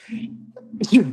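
A single close, fairly loud sneeze bursts out about two-thirds through, just after a short voiced hum, from someone in a boxing discussion.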